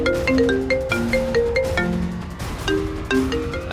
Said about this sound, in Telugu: అరే నా ఫోన్ రింగ్ అవుతుంది.